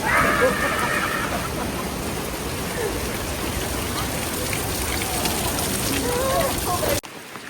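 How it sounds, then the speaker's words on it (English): Steady rain falls across the Zhangjiajie mountain park, a continuous dense hiss of drops on surfaces, with faint voices in the background before the sound drops away abruptly near the end. "And it's raining as well, it was really slippery."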